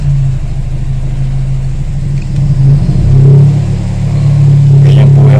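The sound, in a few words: car engine revving, RPM rising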